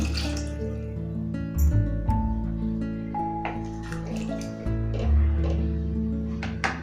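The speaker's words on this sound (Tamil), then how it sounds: "கொஞ்சமாக குக்கரில் தண்ணி கலந்து சேர்த்துக்கோங்க." Water pours steadily into a metal pressure cooker, splashing and gurgling close by, with a couple of louder surges partway through.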